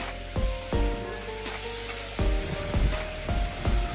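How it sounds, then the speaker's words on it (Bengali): Bottle gourd stems fry with sugar and chilli powder in a pan, giving a steady loud sizzle broken by repeated sharp scrapes and knocks of a spoon stirring, roughly every half second to second. "আবারও সব কিছু ভালোভাবে 2 মিনিট নেড়ে চেড়ে নিচ্ছি"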